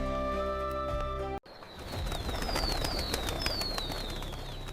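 A flock of pigeons bursts into flight at a palace, a rush of flapping wings and scattered chirps rising loudly after a sudden cut and continuing close by.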